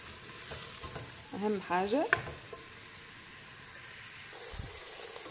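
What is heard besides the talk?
onion frying and sizzling in a pan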